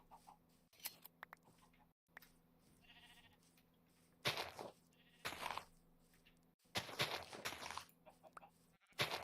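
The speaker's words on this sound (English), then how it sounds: "Okay, there is another sheep." Sheep bleating in Minecraft 1.19 while exploring mountains, several short bleats that come and go at moderate loudness, broken by brief game noises, with no one talking.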